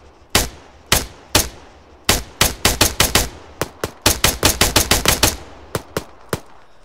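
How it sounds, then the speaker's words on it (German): Gunfire in the Arma 3 battle royale on Wake Island: a run of sharp, loud shots, single cracks at first, then rapid irregular bursts with a reverberant tail, and no talk over them. "Er schießt auf mich."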